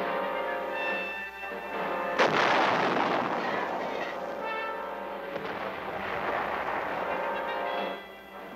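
Artillery pieces firing during training at an artillery school outside Tainan, a loud booming report that rolls on for several seconds, with a second heavy blast a few seconds later amid continuous low rumble.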